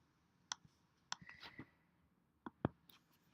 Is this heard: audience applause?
no